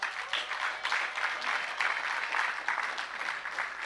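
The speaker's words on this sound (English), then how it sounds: "let's give a round of applause to Zanitecture" An audience applauds a speaker at a Lagos SME bootcamp event, with steady, dense clapping from many hands that runs unbroken and fairly faint throughout.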